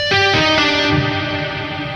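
Piano notes run through fuzzy distortion and washed in reverb, a few struck chords ringing into a long ethereal tail, loud and up close with no voices.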